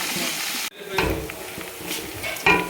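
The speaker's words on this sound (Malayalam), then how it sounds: "സവാള ഇടയ്ക്കിടയ്ക്ക് ഇതുപോലെ ഇളക്കി കൊടുത്തുകൊണ്ടിരിക്കണം ഇല്ലെങ്കിൽ മൂട്ടി പിടിക്കണം" Onions, green chillies and curry leaves fry in hot oil for a Kerala prawn biryani, a loud hiss broken by scraping stirs and a sharp clatter near the end.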